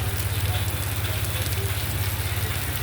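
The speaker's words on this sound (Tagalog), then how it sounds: "Lakas ng ulan, oh." Heavy rain from Typhoon Kristine pours down in Pampanga, Philippines, as a dense, steady hiss close by, with a constant low rumble beneath it and no voices.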